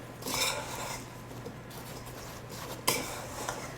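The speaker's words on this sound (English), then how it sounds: "And to all that, I'm going to just mix it up." Apple pieces are tossed with flour, sugar, vanilla and salt in a bowl for a pie, with quiet stirring scrapes and soft utensil clinks, including a sharper knock partway through.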